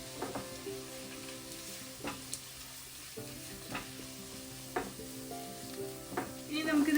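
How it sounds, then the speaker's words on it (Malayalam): Curry leaves sizzle and crackle in hot oil for onion rice, with a steady frying hiss broken by several sharp spoon-against-pan stirring knocks. "ഇനി നമുക്കിതിലേക്ക് കറിവേപ്പില അതും ചേർത്ത് വഴറ്റാം"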